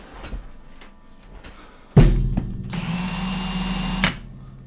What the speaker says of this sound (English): Drilling things in all day.